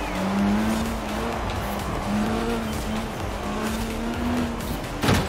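Turbocharged car engine in the racing game Forza Horizon 4, a steady, slowly rising drone held close and loud for several seconds, with faint tire noise and a brief sharp burst at the very end, no voices.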